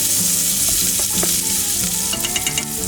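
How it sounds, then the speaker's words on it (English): Caramelized onions frying in fatty meat for Hungarian goulash, a steady loud sizzle with crackling pops and occasional stirring scrapes throughout, heard alone without talk. "But now that the onions are caramelized,"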